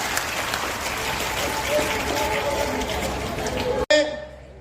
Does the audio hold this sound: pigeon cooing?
no